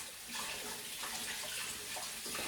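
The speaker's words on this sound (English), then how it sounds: "let me rinse my hands real quick." Water runs from a kitchen tap as hands are rinsed beneath it, a close, continuous splashing rush that swells slightly and carries on without any talking.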